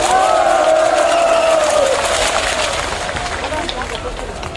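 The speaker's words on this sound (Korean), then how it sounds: "그 이명박 대통령을 더 잘하라고 박수 한번 보내주세요" A loud crowd at an outdoor political speech at Seoul Station roars, cheering and clapping together, with a shout over the top that fades as the noise eases slightly.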